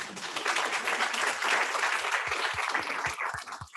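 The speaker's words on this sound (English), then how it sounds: "I think you should clap right there." Applause from an audience at a school district board meeting, a dense burst of clapping that lasts a few seconds with no speech.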